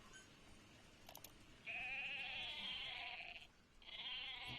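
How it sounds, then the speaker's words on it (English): Goat bleats in the video game Metal Gear Solid 5: two loud, wavering bleats from about 1.7 seconds, the second starting near 3.8 seconds, with no talk. "And goat noises."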